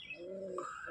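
White Lakka pigeons cooing close by, a steady run of soft, low throaty coos with a brief higher chirp partway through, no talk.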